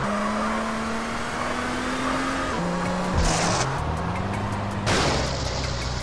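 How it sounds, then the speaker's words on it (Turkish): A car's engine in Grand Theft Auto San Andreas hums loudly, then its pitch drops and stutters as it falters and cuts out, followed by a sharp burst of noise, with no talk. "Abi araba yarıda kalıyor, yine yetmiyor ya."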